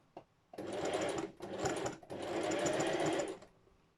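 A sewing machine runs in steady bursts of rapid stitching down a shoulder seam on a sweatshirt, pausing briefly twice between runs, close and fairly loud with no talking.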